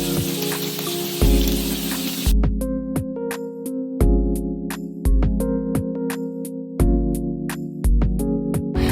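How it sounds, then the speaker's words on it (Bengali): Katla fish pieces fry in hot oil, a steady loud crackling sizzle with repeated sharp clinks and knocks from utensils on the pan. "মাছের এক পিঠ ভাজা হলে আরেক পিঠ উল্টে ভেজে নেব।"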